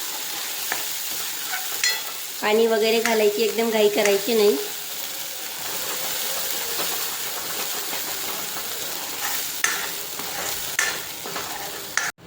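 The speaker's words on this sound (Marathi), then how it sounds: "त्या मसाल्याला तेलात छान असा परतून घ्यायचा" Ground masala for a spicy village-style Khandeshi chicken curry sautéing in hot oil, a steady close sizzle with stirring scrapes throughout; someone talks briefly early on over the frying.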